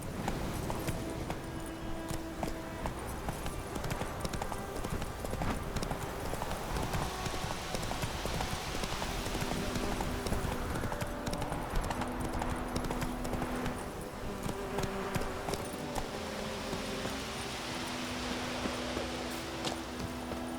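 Horse hooves galloping in The Witcher 3, a steady rapid clip-clop of hoofbeats running continuously at close range, with faint game ambience beneath and no talk.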